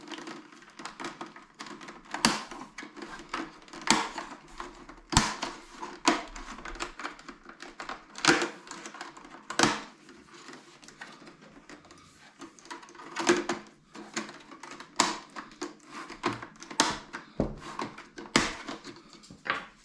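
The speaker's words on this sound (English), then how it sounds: "use a metal or plastic pry tool to pry off the bottom chin of the all-in-one computer" A metal or plastic pry tool works the plastic bottom chin off an HP all-in-one computer, giving irregular sharp clicks, snaps and scraping taps, close and fairly quiet, spread across the whole stretch with no talking.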